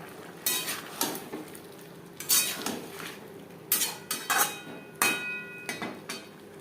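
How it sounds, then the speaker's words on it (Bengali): A spoon scrapes and clinks against a pan while papaya curry with spices is stirred over high flame, in about eight separate spaced strokes, quiet and close with faint sizzling between them. "তিন চার মিনিট নাড়াচাড়া করে নেব যাতে পেঁপের মধ্যে মশলার একটা ফ্লেভার আসে"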